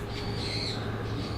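Birds squawk through a severe thunderstorm, with harsh high calls rising over a loud, steady roar of rain and wind.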